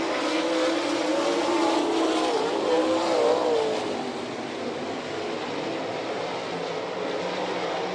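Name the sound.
sprint cars racing at Lima speedway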